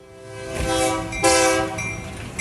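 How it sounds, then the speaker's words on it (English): Loud train horn blasts with a rich harmonic tone: one long sustained blow, then a second sharper blast, ringing close and clear with a rumbling low end and no talking. "There you go. Blow that whistle."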